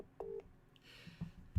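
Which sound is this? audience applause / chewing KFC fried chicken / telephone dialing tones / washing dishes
telephone dialing tones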